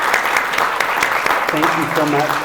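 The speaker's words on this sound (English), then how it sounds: "Let's give Sophie, Annabelle, Clara, Jennifer, and Sophie another big round of applause." An audience applauds student artists at a residence showcase, steady clapping from a room of people while a voice speaks over it near the end.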